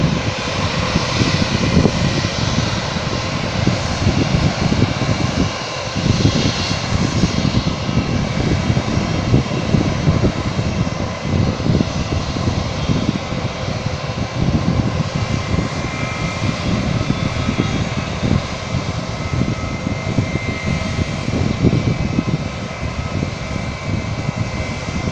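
A fixed-wing airplane at Phuket airport near Mai Khao beach roars steadily and loudly for the whole span, a sustained engine rumble without pause.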